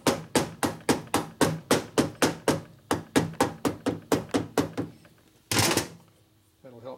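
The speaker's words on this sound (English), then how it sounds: "you go over here and tap on the hammer" A hammer taps rapidly and evenly on a part during a 1977 Harley-Davidson Sportster Ironhead 1000cc motor rebuild, about twenty sharp close strikes in steady rhythm, then a pause and a brief scraping sound.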